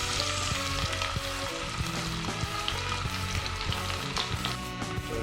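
Onions frying in red oil for egusi soup, a dense, steady crackling sizzle with occasional clicks of a utensil, close and alone.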